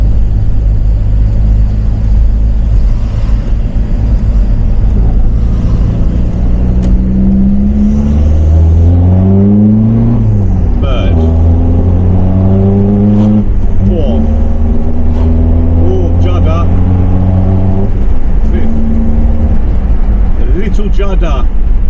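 A car engine driving in fourth gear with a clutch judder: loud low engine drone with rising and falling revs through gear changes, cabin rumble throughout and someone talking over it.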